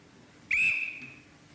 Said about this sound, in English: you ought to blow your whistle